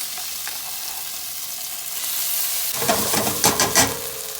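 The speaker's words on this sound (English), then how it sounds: "we'll go ahead and add our paste and we're gonna fry it off" Curry paste fries in coconut oil in a pan, a steady soft sizzle that bursts into louder crackling spatter partway through as the paste hits the hot fat.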